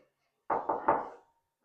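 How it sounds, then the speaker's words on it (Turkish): Three quick, even raps of knuckles on an apartment door during a food delivery, moderately close, followed by silence. "Nezaketen kapıyı çalalım."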